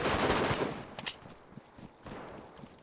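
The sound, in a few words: gunfire in a video game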